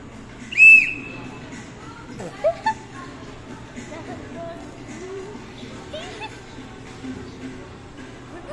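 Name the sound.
whistle blown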